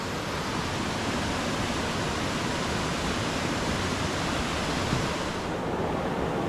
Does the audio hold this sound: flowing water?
yes